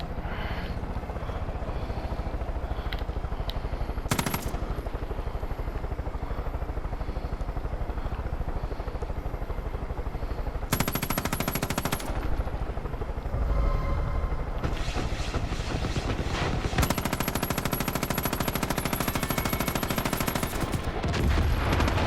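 A helicopter in the video game Far Cry 5, its loud steady rotor and engine drone running throughout, broken by bursts of gunfire and explosions, with no talking.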